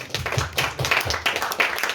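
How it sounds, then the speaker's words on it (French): At a literary conference for young authors, the audience claps for young author Mathieu Lenouvel with a handful of distinct, fairly close claps and soft thumps in an uneven rhythm. "vous pouvez applaudir aussi Mathieu Lenouvel"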